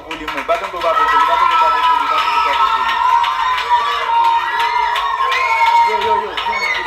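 A lively crowd cheers, shouts and claps continuously and loudly, with excited children's voices mixed into the steady roar of the celebration.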